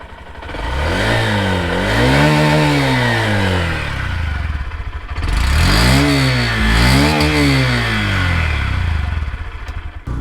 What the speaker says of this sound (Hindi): इस गाड़ी का एग्जॉस्ट नोट सुन लेते हैं